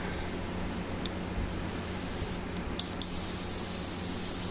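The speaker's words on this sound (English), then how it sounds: "Now I can shoot my blade. So I've got a 50-50 solution of my Signar blue highlight in my airbrush" An airbrush sprays blue highlight paint thinned 50-50 with thinner onto a miniature blade, a close, steady airy hiss broken by a few short sharp bursts, with no talking.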